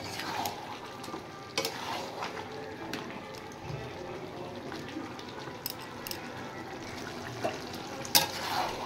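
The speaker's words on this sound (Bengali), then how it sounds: "এবার রসুনটা সহ আর একটু কষিয়ে নেব মাংসটা।" Mutton being stir-fried with garlic paste in a pan, a steady close sizzle with scraping stirs and occasional sharp utensil clinks throughout, no talking.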